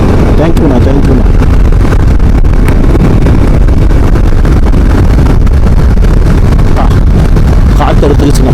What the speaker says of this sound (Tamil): காற்று எடுத்துக்கிச்சுங்க, பயங்கர காற்று.